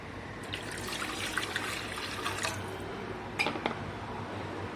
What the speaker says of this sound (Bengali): আর একটু দেবো পানি।